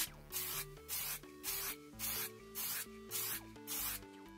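Bursts of aerosol hairspray hiss onto a 3D printer bed in a steady rhythm, about eight short blasts with brief pauses between, close and fairly loud over a low background.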